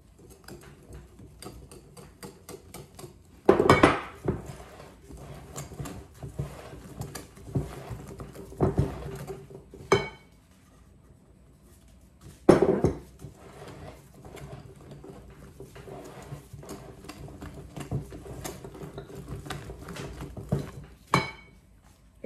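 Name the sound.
mixing cake batter for a three-chocolate cake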